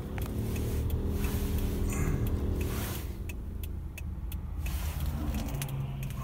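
A car engine is started and then runs steadily, a constant close rumble with a broad hiss and a few light clicks, and no voices.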